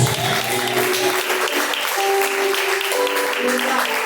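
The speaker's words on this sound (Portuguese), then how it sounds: "Palmas que louvam e agradecem a Deus." A congregation at a live church service claps loudly and continuously in praise, the dense clapping mixed with sustained music and voices throughout.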